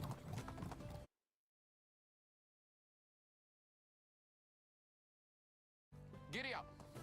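Horse hooves clip-clop in the medieval life-sim game Medieval Dynasty, a short burst at the start, then silence for several seconds before more sound returns, with a whinny-like call near the end.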